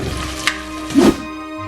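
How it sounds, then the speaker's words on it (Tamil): Garlic and curry leaves sautéing in an oiled pan for a sardine and egg curry, with a soft sizzle and a couple of brief stirring scrapes, close and alone. "இதை மிக்ஸ் பண்ணி போட்டு ஒரு 3 நிமிஷம் வதங்க விடுவோம்"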